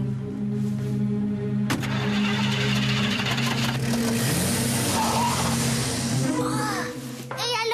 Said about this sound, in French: La vieille voiture a démarré en trombe